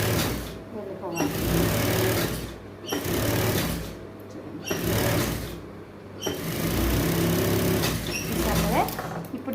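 A sewing machine stitching a thin dori cord runs in steady, whirring bursts of about two seconds each with short pauses between, close and fairly loud, while a person talks over it.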